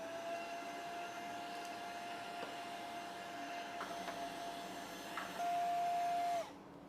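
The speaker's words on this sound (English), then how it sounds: "I use my tiny vacuum to save my life so I don't have to touch any bugs." A tiny handheld vacuum cleaner sucks bugs out of a Honda Civic's front bumper with a steady close whine that holds a high tone. It runs alone and cuts off at the end.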